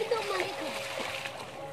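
Canal water splashes and sloshes around male goats being washed on a goat farm, a continuous close churning with someone talking over it.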